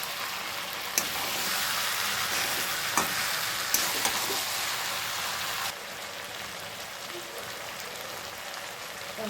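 Mixed vegetables fry in a pan with salt and sugar for a bhetki fish-bone chorchori, giving a steady close sizzle with a few sharp utensil clicks; the sizzle drops noticeably quieter partway through.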